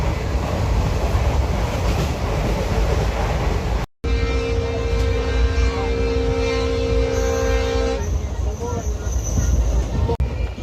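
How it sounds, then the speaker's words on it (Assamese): A passenger train running fast on the way to Kamakhya station, heard from inside as a steady, loud rumble of wheels and carriage with a brief dropout, a sustained tonal whine in the middle, and a faint voice in the background. "বহুত স্পীডত গৈ আছে ট্ৰেইনটো।"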